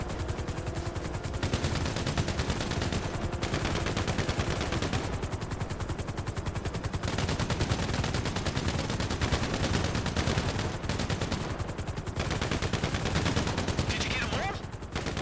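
Dense, continuous automatic gunfire from GTA Online, rapid shots running nearly the whole time at steady loudness, with faint voices mixed underneath.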